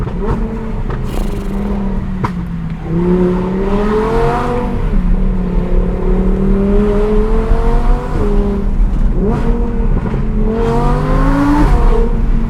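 An Audi R8 V10 Plus with a center exit exhaust revs hard from inside the car, its engine note climbing and falling in several loud pulls with quick throttle blips, steady and close, with no talk.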